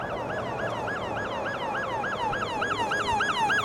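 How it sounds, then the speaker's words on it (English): A police siren wails steadily in a fast repeating yelp cycle, fairly close amid LA traffic, with road noise underneath and no talking. "Oh, we got a police car coming here early in the morning"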